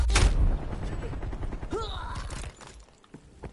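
A frag grenade goes off in a multiplayer video game shooter with a loud, heavy burst, and gunfire follows. A voice talks over the fighting, and the noise fades to near quiet at the end.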